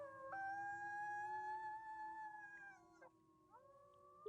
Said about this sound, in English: Okay, group howling session.